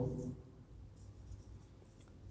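Faint scratchy strokes of writing on a board during a maths lesson come in short, light bursts after a brief bit of speech at the start.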